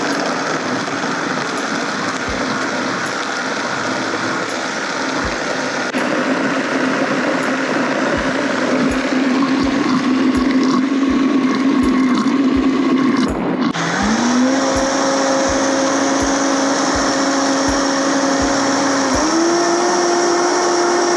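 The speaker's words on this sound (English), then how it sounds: "we are gonna blend this in our blender until we get a really nice paste" A kitchen blender whirring steadily as it purees red chili sauce into a paste, a loud continuous motor drone that shifts pitch partway through as the load changes, with no talking.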